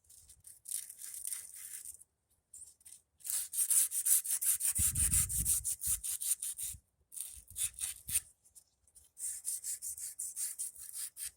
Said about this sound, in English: Just using crocus cloth on here.